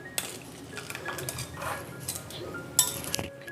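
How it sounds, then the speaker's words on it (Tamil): A metal spoon pressing curdled milk in a pot while making homemade cream cheese, giving soft scraping and squishing strokes with a few sharp clinks against the pot, close and quiet. "ஒரு கரண்டி வச்சு அமுத்தி விட்டுடலாம்."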